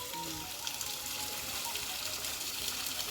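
Water poured steadily into holes in set Ambuja cement, a continuous close splashing gush with a faint trickle underneath and no talk.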